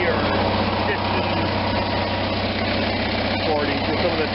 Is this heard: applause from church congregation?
no